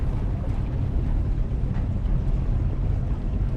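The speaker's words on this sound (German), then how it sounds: "Es fühlt sich sehr laut an. Können wir den Motor nicht abstellen?" A low, steady boat engine drone rumbles continuously alongside wind and water noise, with no break in the sound.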